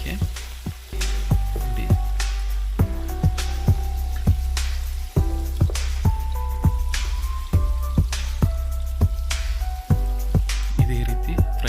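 About 400 grams of chopped onions fry in hot oil for a Chikkamagaluru-style biryani, a constant spattering sizzle close up, under a steady melodic tune with a brief spoken word.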